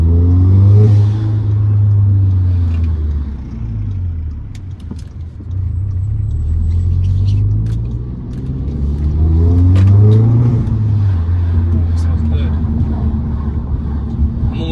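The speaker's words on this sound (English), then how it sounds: "this is more than enough turbo sound for me" An Audi S3 turbocharged engine with an aftermarket Forge intake revs repeatedly with rising and falling pitch, turbo whistle and whoosh audible, recorded from inside the car at close range.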